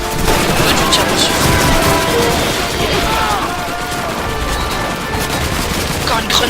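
Dense gunfire fills a battlefield in the Russian campaign of the video game Call of Duty 2, with rapid overlapping shots and bursts going on throughout. A player talks over the loud shooting.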